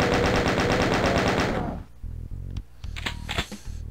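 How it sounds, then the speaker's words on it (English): Rapid automatic gunfire from a Doom 2 shootout with chaingunners rattles loudly for about a second and a half, then breaks off into a few scattered, lower thumps and clanks. "Just do a little bit of peekaboo shooting."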